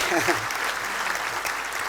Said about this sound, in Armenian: Այո, ծափարեք